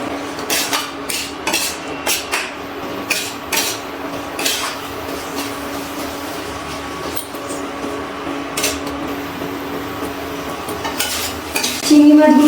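A utensil stirs fried shrimp through spices in a pan while cooking a chayote squash curry. It makes a series of sharp scraping and clinking strokes over a soft sizzle, close by with no talking.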